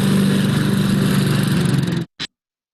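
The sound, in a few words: lawnmower engine running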